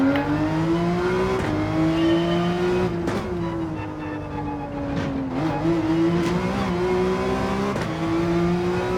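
A Porsche 911 engine screams at full throttle in Gran Turismo 7, a steady high-pitched howl that climbs through the revs, dips briefly on several quick gear changes or lifts, then pulls hard again, loud and continuous with no talk.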